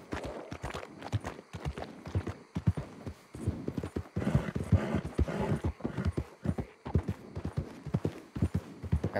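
Rapid hoofbeats of a galloping horse in Red Dead Redemption 2, rhythmic and clear, thudding continuously throughout.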